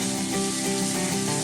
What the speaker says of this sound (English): You can hear it is still sizzling, yeah?